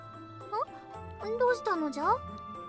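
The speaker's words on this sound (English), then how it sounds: "The white cat in Murasame-chan's arms suddenly starts meowing." A white cat meows in the arms of a character in the visual novel Senren Banka, giving several rising and falling cries in quick succession over soft background music, fairly close and clear.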